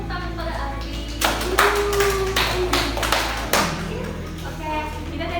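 Classroom clapping during a teaching practice lesson, a short burst of several hands clapping for a couple of seconds, close and uneven, with a hum and voices around it before it fades.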